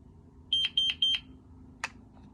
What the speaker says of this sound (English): It beeped 3 times, and yet it's still counting down in stay mode.